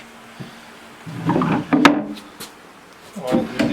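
Wooden drawers of a handmade desk slide in and out in a workshop, giving a few rubbing, thudding wood scrapes with brief knocks, close and moderately loud with no talk.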